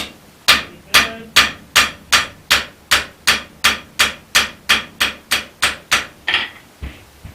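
Hammer striking hot steel while forging an arrow pattern latch body, about fifteen sharp, evenly spaced blows in a steady rhythm, loud and close, with no talking.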